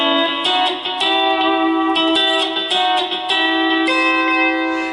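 A lap steel guitar plays a short phrase of sustained, ringing notes that shift pitch and land on a C, with bright overtones and a smooth, continuous tone and no voice.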